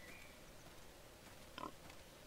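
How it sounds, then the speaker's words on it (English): A pig in an archery hunting game gives a single short grunting oink over a quiet outdoor ambience, faint and somewhat distant. "Thanks for the oink."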